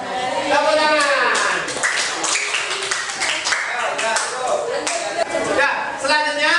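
A classroom of students claps hands together in a burst of scattered, close-up clapping mixed with voices and light laughter after a simple electrical circuit experiment.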